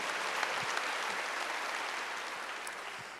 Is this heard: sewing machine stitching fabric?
no